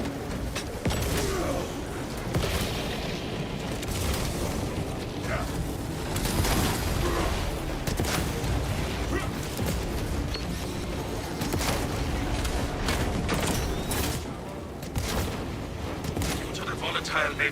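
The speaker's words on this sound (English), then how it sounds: "Throwing frag grenade." A frag grenade is thrown and detonates in a sci-fi shooter video game, within a dense, loud, continuous wash of combat blasts and rumbling gunfire that runs throughout, with talk mixed in.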